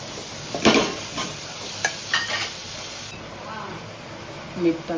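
Fenugreek leaves cook in a pan with onion, tomato and turmeric, a soft sizzle running under occasional scraping stirs of a spoon, heard close and fairly faint.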